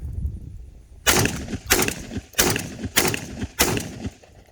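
SDS Imports BLP M12PT shotgun fires five evenly spaced loud shots at an outdoor range, each a sharp blast with a short ringing decay, after a quiet pause.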